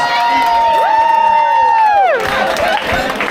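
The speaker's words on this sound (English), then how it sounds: "Make some noise for the winners! The answer was 7 minutes and 2 seconds. Give them a round of applause." A crowd on a Disney Magic cruise ship cheers loudly for the quiz winners, a sustained mass of voices with whoops and shouts that swells and then breaks into scattered cheering and clapping near the end.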